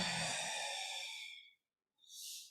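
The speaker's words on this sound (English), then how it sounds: "Breathing out." A long, breathy exhale during a core exercise, fading out over about a second and a half, then a short pause and a softer airy breath.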